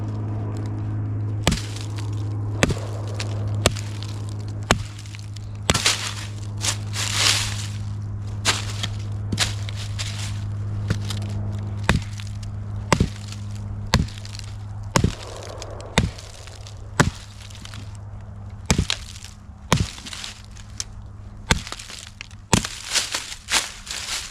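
A Cold Steel Trail Hawk tomahawk with a 2 1/4 inch blade chops wood over and over, each sharp crack close and distinct, landing at a steady, slightly irregular pace above a low background hum.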